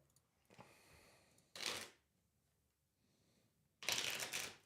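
A deck of playing cards shuffled by hand: two crisp riffling bursts, the second longer and louder, separated by a quiet pause, with a faint rustle of handling just before, close by and without talk.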